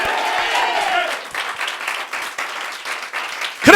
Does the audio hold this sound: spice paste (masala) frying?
no